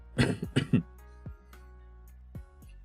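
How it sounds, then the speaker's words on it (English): A couple of sharp coughs close up, followed by faint knocks and quiet background sounds. "I gotta cough one moment"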